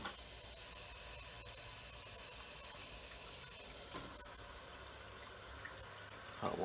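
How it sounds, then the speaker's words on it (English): Cool water runs steadily into a homebrewing setup for a first batch of homemade Duff beer, a faint continuous rushing hiss that grows slightly louder near the end, with no talk. "cool water going in."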